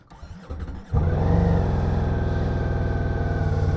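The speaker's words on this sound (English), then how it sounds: "Now I can just start the motorbike, and let's listen to this engine when it roars." A V4 muscle cruiser motorcycle engine cranks briefly with a rattling starter, then catches and roars to life, settling into a loud, close, throbbing idle with a steady pulsing beat.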